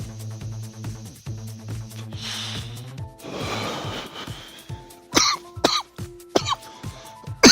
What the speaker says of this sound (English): I'm coughing my lungs out